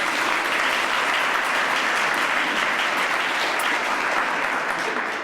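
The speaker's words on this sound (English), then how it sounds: "If we can give them all a round of applause." Sustained audience applause at an arts awards event, a dense, even wash of many hands clapping that holds steady for the full stretch without a break, with no voices standing out above it.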